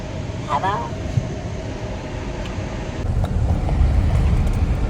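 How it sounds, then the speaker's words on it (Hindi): Busy road traffic in Srinagar, heard from inside a stopped vehicle: a steady low rumble of idling engines and passing cars, swelling louder toward the end, with a brief voice and a short horn-like tone early on. "ट्रैफिक देखो कितना सारा लग गया है यहाँ पे"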